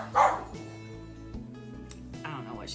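A dog barks once, sharply and close, inside a home, then whimpers faintly while someone talks.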